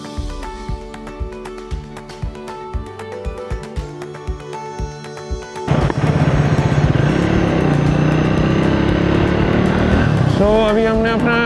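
A motorcycle on a highway gives off a steady, loud engine drone and wind roar that swell abruptly partway through. Before that, a quieter stretch carries a rhythmic ticking pulse, and the loud section continues without a break.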